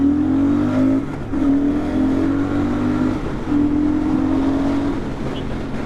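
A Royal Enfield Super Meteor 650 motorcycle rides through city traffic, its engine note holding steady and then rising with each gear, loud and close, with road and wind noise underneath.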